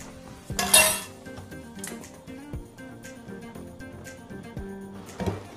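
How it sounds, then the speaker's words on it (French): A spoon stirring and scraping the bottom of a pan while making homemade almond and coconut cereal bars, with a sharp clink of metal on metal followed by scattered light knocks and scrapes, close and moderately quiet. "je vais un peu tourner avec ma cuillère pour retirer ce qu'il y a en dessous"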